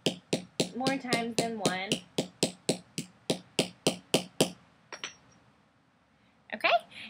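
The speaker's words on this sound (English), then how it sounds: "So take your hammer and just hammer it a couple times." A hammer strikes the metal button of a dog leash being made into a bracelet, about a dozen sharp, evenly spaced taps up close, with a voice talking over the first few blows and a brief clink near the end.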